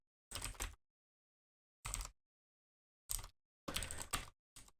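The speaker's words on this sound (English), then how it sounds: "I'm typing it out for you as well." Typing on a computer keyboard in five short bursts of quick key clicks separated by silences, close and fairly quiet, with no talk.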